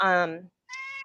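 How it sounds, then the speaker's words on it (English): A cat meows loudly and close by in a long drawn-out cry, then gives a second shorter meow after a brief pause. "so is that a cat?"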